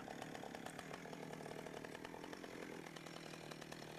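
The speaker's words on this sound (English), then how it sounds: "the chainsaw will cut straight down the scribe line" A chainsaw runs steadily as it cuts down a scribe line in wood for a notch, its engine a continuous, close, buzzing drone with no pauses and no voices.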